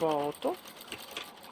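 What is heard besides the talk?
sewing machine stitching a diaper bag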